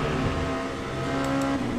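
A race car engine in the video game Le Mans Ultimate drones steadily and loudly, holding a high, continuous pitch throughout, with no voices.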